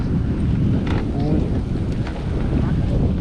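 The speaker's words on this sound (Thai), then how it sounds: "เฮ้ยลมมันพัดเด้อ" Wind gusts at a canal fishing spot, producing a loud, continuous broadband rush and buffeting close to the microphone, with faint voices in the background.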